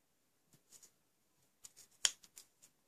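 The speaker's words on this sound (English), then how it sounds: "I can trim a little bit more down there" Small scissors snip around a stamped paper image in a few quiet, sparse cuts, with one sharper close snip partway through, in an otherwise silent room.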